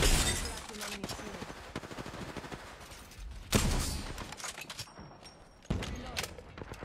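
Video game shooter gunfire crackling in dense, continuous bursts throughout, with sharp louder volleys near the middle and the end, over a busy game soundscape.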